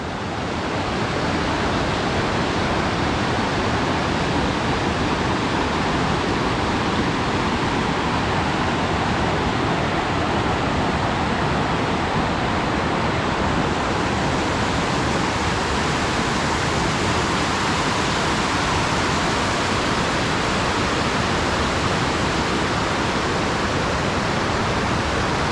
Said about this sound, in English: you see the water there coming down off the mountain.